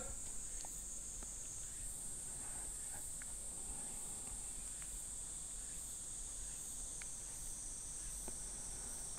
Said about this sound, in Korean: 지금 밖에는 매미 소리가 들립니다.